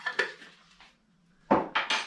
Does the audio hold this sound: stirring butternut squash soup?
yes